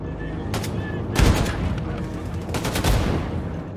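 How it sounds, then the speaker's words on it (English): Gunfire in the video game Wolfenstein: The New Colossus, as exploding barrels are shot near enemies: sharp rapid shots and a couple of booming blasts, loud and close, over a steady game background. "it is all about shooting exploding barrels that are next to Nazis"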